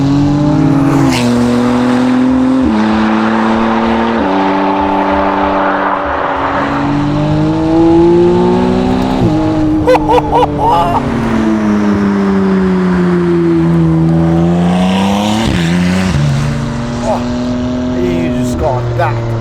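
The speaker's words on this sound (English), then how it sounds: "that race rear muffler not bothered with flap actuation. It's just open" A 720 hp Novitec McLaren Artura with a race exhaust and open rear muffler revs loudly and close, its pitch climbing through repeated upshifts, with crackles between gears and a brief lift off the throttle near the end.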